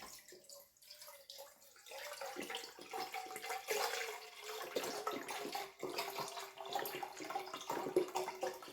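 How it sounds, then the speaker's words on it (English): Four cups of vegetable broth pour into a saucepan, making a faint, steady splashing stream of liquid that carries on for several seconds. "I'm going to add my vegetable broth. This right here is 4 cups."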